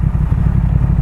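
A Triumph Speed Twin motorcycle engine runs at slow speed, a loud, close, low throbbing rumble with an even pulse throughout.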